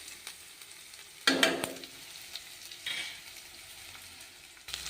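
Ingredients frying in a pan on a home stove, a low continuous sizzle with a few louder bursts as food is stirred or added, close and unaccompanied by talk.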